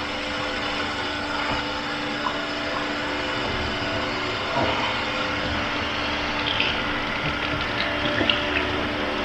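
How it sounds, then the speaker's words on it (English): Cold tap water runs in a steady, unbroken rush into a sink, rinsing pineapple off a steak. The flow is close and continuous, with faint knocks now and then and no talking. "and cold water, and we're gonna rinse it off"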